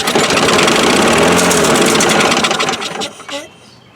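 A 2003 Craftsman 6.25 lawn mower engine cranks and sputters loudly as it tries to start, a rough rapid chugging that sags and dies away after about three seconds.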